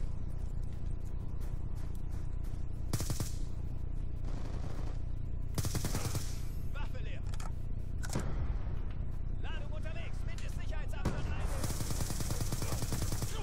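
Continuous loud gunfire from the video game Black Ops 2, with rapid automatic bursts, sharp single shots and C4 explosives, dense and layered like combat, with no pauses throughout.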